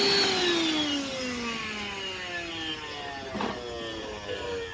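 A Ridgid 18V cordless 3-gallon wet/dry vac runs close by, its motor whine loud at first and then gradually winding down in pitch and level as it keeps whirring steadily, with a brief bump of extra noise near the end.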